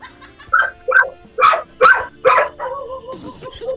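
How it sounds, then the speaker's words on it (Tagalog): A dog barks five times in a steady sequence of sharp, strained barks, close and loud, followed by a lower whimpering or growling trail at the end. "Parang hirap na hirap yung aso magtahol"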